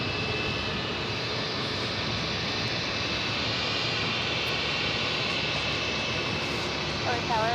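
Japan Airlines Airbus A350-1000 jet roaring steadily at JFK airport, a loud continuous engine rumble and whine throughout, with a faint voice near the end.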